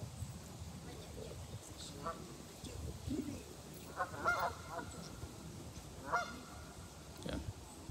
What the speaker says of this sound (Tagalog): Maingay na yung mga ducks.